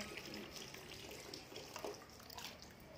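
Water running steadily from a tap into a filling bucket outdoors at a home, a continuous broadband splash and gurgle heard fairly close, with faint voices in the background.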